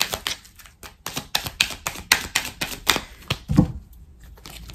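A deck of soul-contract oracle cards is riffled and shuffled, giving rapid crisp flicks and snaps in a steady rhythm, close and clear, with a softer thud as cards are set down near the end.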